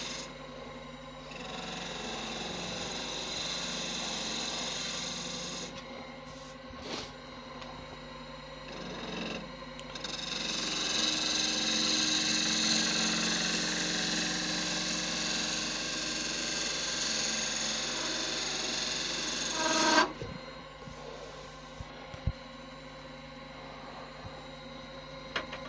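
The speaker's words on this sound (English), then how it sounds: "The gouge is bouncing on the wood rather than cutting clean." Wood lathe with a gouge turning a knotty eucalyptus wand, the gouge bouncing rather than cutting clean: a rasping scrape over a motor hum, in two long bursts separated by a quieter pause, ending with a few sharp knocks.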